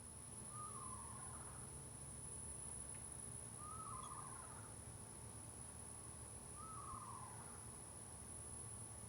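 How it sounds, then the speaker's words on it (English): Three separate descending whistled calls from a screech owl, each about a second long and evenly spaced, faint against a steady outdoor background hiss with no talking. "I didn't know screech owls made a sound like that"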